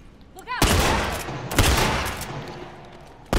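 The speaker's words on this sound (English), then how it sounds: "Two shots into him." Gunfire in a video game: loud, sharp bursts of shots ring out in rapid succession with echoing tails, then one more burst at the end.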